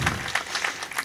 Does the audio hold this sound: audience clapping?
yes